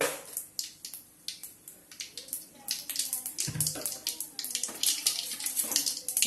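Mustard seeds spluttering in hot oil for a Tamil fish curry, a dense stream of sharp crackling pops close by, continuous and getting busier throughout.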